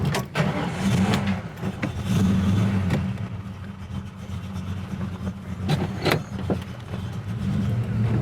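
A 1969 Ford Falcon GT engine rumbles steadily as the car drives, with occasional knocks and rattles over a constant low drone.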